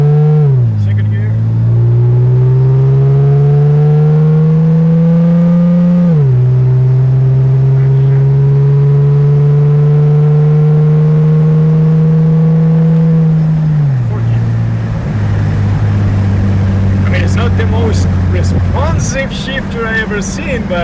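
A 2JZ-swapped Toyota GR86 with paddle shifters accelerates hard, its engine drone rising steadily and then dropping sharply at each upshift through the gears. The sound is loud and close, as from inside the car.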